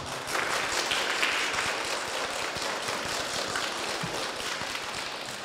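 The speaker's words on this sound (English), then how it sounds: "anyone who believes the defendant, Mr. Big B Wolf, is guilty with a G should applaud as loudly as you can." Applause from an audience voting for a guilty verdict in a mock trial of the Big Bad Wolf, a dense, steady wash of many hands clapping loudly for about five seconds.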